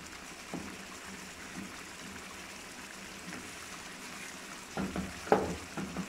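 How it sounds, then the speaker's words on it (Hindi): Chicken karahi frying in a pan, a soft steady sizzle throughout with a few louder crackles and stirring clatters near the end, no talking. "अब इसको भून लेते हैं।"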